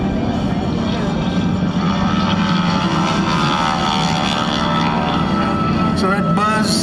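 A T-34 Mentor propeller trainer with a roughly 600-horsepower front engine drones steadily at a military air show at MCAS Miramar. The buzzing propeller is loud and continuous throughout, with a brief higher whine near the end.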